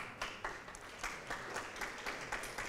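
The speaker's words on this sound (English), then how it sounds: "We would like to have your applause," Faint, distant applause for volunteers at a university youth forum closing ceremony, a thin scattering of claps pulsing unevenly at low level.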